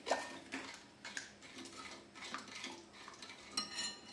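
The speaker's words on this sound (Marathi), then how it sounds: "इथे मी गरम दूध टाकून घेतले। याला आता व्यवस्थित आपण मिक्स करून घ्यायचं आहे" A spoon stirs hot milk into barnyard millet kheer in a pot, giving soft, irregular clinks and scrapes against the metal, close and fairly quiet, with no voices.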